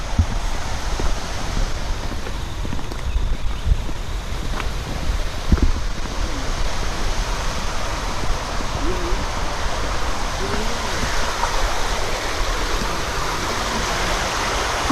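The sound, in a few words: Shenbagadevi waterfall flowing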